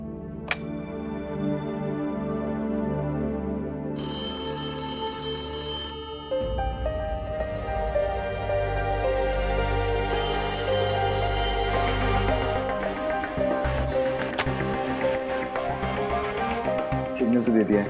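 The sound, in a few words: phone call ringing tone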